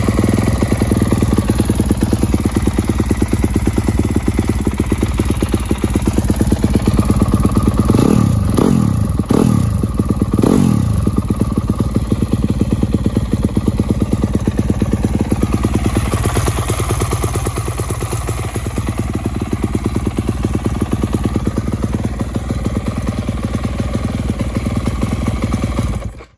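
A 2019 Yamaha YZ250F dirt bike, in rough worn condition with a broken kill switch, starts up for the first time and idles steadily with a loud, close, rapid mechanical clatter, with a few revs early on.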